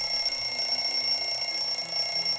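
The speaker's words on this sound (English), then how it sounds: "The alarm." An alarm clock rings steadily and loudly for the whole stretch, a continuous high electronic tone with no pauses and no voices.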